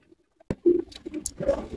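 Giribaz pigeons give a few soft, low coos in short bursts, close by, over light rustling and patter in a pigeon seller's setting.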